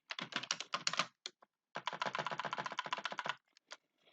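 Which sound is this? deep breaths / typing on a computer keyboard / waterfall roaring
typing on a computer keyboard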